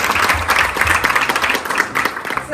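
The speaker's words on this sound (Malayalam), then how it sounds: "just give A good round of applause" Applause from an audience at a transgender beauty pageant grooming session, a dense steady round of clapping filling the whole stretch with a faint crowd murmur beneath.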